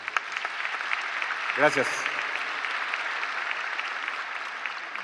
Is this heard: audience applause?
yes